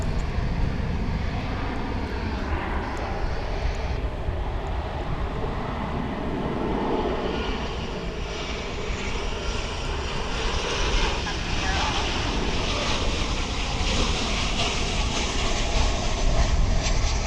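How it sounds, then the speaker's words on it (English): An American Airlines A321 jet takes off at DFW International Airport, its engines a continuous broad roar that holds steady and swells slightly toward the end. "you're about to see American Flight 2081 off to Sacramento, California"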